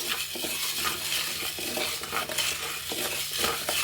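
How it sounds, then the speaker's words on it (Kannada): Toor dal dry roasts in a pan for homemade sambar powder, grains rattling and scraping continuously as a utensil stirs them, with a faint sizzle throughout. "ಇವಾಗ ಒಂದೊಂದೇ ಹಾಕ್ಕೊಂಡು ಹುರಿಯೋಣ. ಫಸ್ಟು ತೊಗರಿಬೇಳೆ ತೊಗೊಂಡಿದ್ದೀನಿ."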